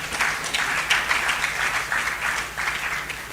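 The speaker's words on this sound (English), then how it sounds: "can we give her a resounding round of applause?" Audience applause at a patriotic rally: many people clapping together in a steady, fairly loud, continuous burst that holds throughout.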